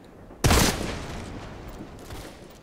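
A sudden burst of enemy gunfire breaks out in the video game Deadfall Adventures, one loud close volley with a ringing decay, then fainter scattered shots trailing off.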